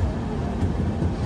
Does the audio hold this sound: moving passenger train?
yes